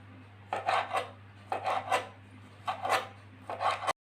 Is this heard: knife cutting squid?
yes